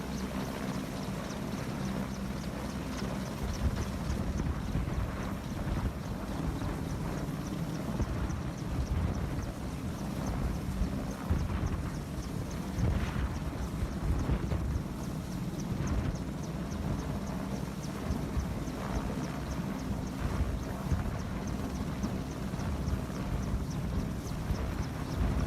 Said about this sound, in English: This is the Merlin at the Overton in the confined areas of Salisbury